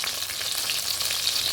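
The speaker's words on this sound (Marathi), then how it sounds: "आता विंग्स फ्राय कोता" Chicken wings fry in hot oil with a loud, dense, steady crackling sizzle that holds throughout and cuts off abruptly at the end.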